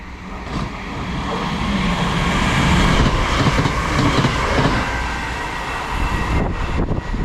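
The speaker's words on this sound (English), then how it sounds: "another 323 coming through" British Rail Class 323 electric train running through a Cheshire station, a loud rolling rumble building toward the middle with rhythmic wheel clatter and a brief squeal near the end, no voices.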